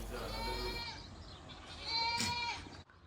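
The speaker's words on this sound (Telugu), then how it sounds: "ఇక్కడ చూసుకుంటే యూఏఈ మేకలు ఉన్నాయి, గొర్రెలు ఉన్నాయి" Goats and sheep on a farm in the UAE bleat in a few short, wavering calls, fairly close and alone, with a louder cry near the end.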